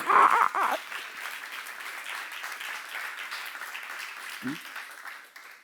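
Congregation applause during a church seminar, a burst of clapping with a loud voice at the start, then sustained clapping that fades toward the end, with a brief low vocal sound near the close.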